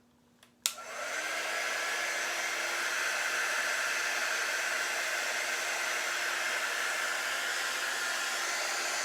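A handheld heat tool or hair dryer switches on with a click and then blows a steady, loud whoosh of air while drying ink on a pumpkin spice craft project, running continuously with no talking.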